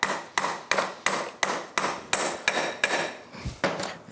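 Steady hammer blows drive a wheel bearing into the rear wheel of a Suzuki GSXR 1000, about a dozen sharp metallic strikes in an even rhythm, close and loud, with no talk.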